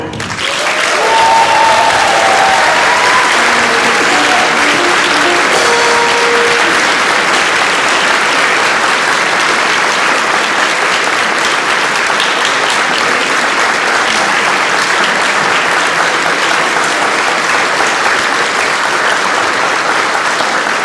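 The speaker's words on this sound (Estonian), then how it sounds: "Ja Kersti väärib veel ühte aplausi" Sustained, loud audience applause fills a church in Tartu after a concert performance, honoring conductor Kersti Perandi, with dense continuous clapping lasting about twenty seconds.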